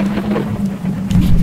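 Rain falls in the video game Choo Choo Charles as a dense, steady hiss over a low constant hum, swelling slightly toward the end.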